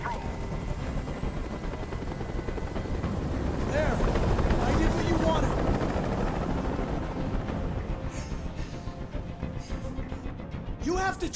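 A helicopter hovers and flies overhead during a tense hostage standoff, a loud continuous rotor drone that swells in the middle and holds steady, with voices faintly heard beneath it.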